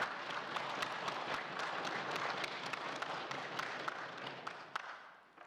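Sustained applause from a large crowd fills a legislative assembly chamber, steady for several seconds before tapering off at the end.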